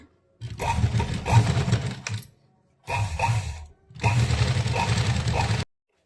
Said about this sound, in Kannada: ಮೇಲೆ ಹಾಕ್ಕೊಂಡು ಒಂದು ಸ್ಟಿಚ್ ಹಾಕ್ಕೊಳ್ಳಿ